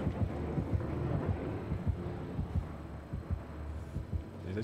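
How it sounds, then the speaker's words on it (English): Heartbeat from the horror video game Dead by Daylight, a steady deep thumping pulse repeating roughly twice a second over a low hum, fairly faint with no talking. "The heartbeat went away."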